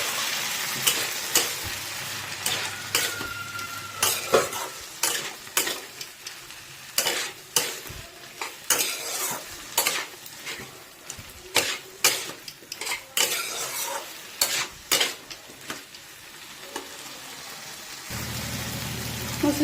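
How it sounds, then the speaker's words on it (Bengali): A ground paste of coriander, cumin and mustard with turmeric stirred in a hot pan for spinach ghonto with fish head: repeated scraping spatula strokes over a sizzle, close and rhythmic for about twenty seconds. "মশলাটা দিয়ে একটু নেড়ে নিয়েছি"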